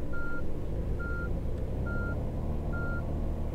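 Reversing beeps from a bus in Tourist Bus Simulator: four evenly spaced electronic tones sound steadily over a low idling engine rumble.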